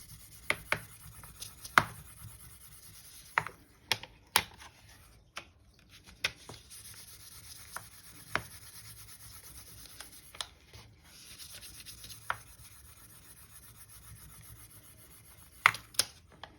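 Steel soap rubbing and scraping over polymer clay, a stream of rough rasping strokes with occasional sharper scratches, close up and fairly quiet, with no talking.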